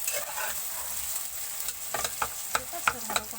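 Food being fried and stirred in a pan, a soft continuous sizzle with a series of sharp scraping strokes of a utensil that grow more regular toward the end.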